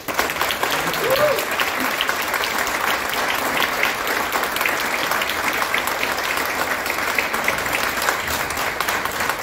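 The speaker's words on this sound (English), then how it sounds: "let's give them a great round of applause" A convention panel audience gives sustained applause for the American Werewolf in London panelists, a thick, even roar of many hands clapping that holds steady and fairly loud throughout, with a brief voice near the start.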